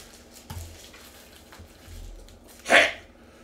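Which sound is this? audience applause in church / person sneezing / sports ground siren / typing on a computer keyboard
person sneezing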